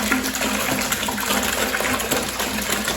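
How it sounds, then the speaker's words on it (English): Vinegar pours steadily into a bucket in a continuous close gushing splash of liquid, heard alone without pauses for the whole moment. "You're gonna fill up your bucket with vinegar."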